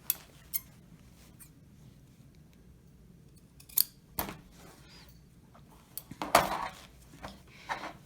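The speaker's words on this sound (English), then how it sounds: "I just want to make sure that I trim it above it." Scissors snip through fabric at the corners of a homemade placemat: a handful of sharp, close crisp cuts spaced irregularly, with a quick cluster of snips near the end, set against a quiet room with no talking.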